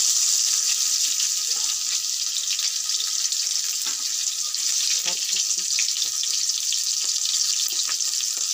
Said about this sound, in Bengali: তো লঙ্কা দেওয়ার পরে আমি দিয়ে দিলাম রসুন কুচি